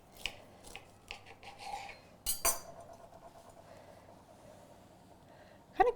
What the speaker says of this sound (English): So I'm gonna slice it down the middle so you can have a nice cross section.